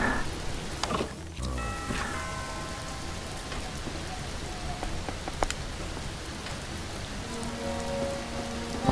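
Rain in the video game Mr. Prepper falls steadily as a dense, even patter on surfaces, with a few brief game chimes and tones layered faintly over it.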